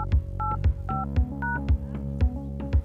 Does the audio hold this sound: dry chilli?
no